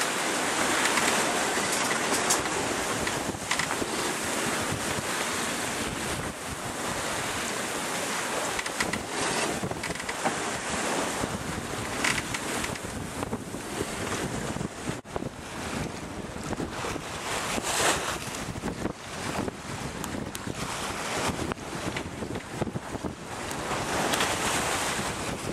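Strong gusting wind and breaking waves on open sea aboard a sailboat between Nouméa and Santo, a loud, continuous roar of wind noise and surf lasting throughout without any talk.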